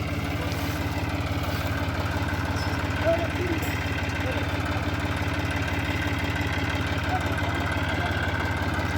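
A tractor engine runs on a farm field while ploughing, a steady low mechanical drone with regular throbbing pulses, fairly close and constant, with someone talking over it.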